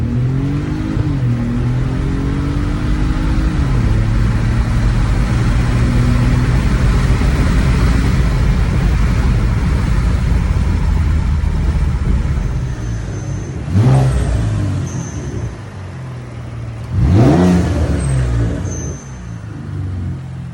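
A twin-turbo car drives in cold weather, its engine droning steadily up close with repeated revs and rising whines, plus two sharper blips near the end, no voices.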